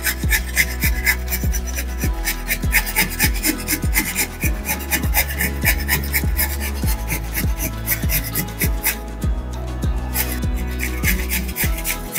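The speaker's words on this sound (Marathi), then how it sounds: "आता किसणीवरती हे बीट आपण किसून घेऊया।" Beetroot scraped on a hand grater in steady, fast rhythmic strokes, each a loud close rasp repeating continuously throughout with no voices.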